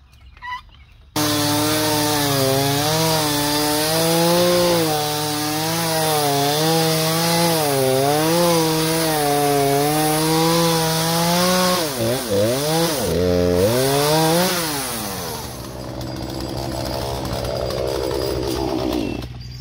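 Chainsaw cutting on a farm, its engine starting abruptly and holding a loud wavering whine as it bites and revs, then bogging and dropping in pitch near the end before tapering off.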